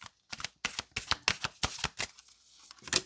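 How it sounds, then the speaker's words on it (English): Tarot cards are riffled and shuffled by hand in quick repeated bursts of crisp papery slaps and flutters, close and fairly loud, with short pauses between rounds. "Let's keep shuffling."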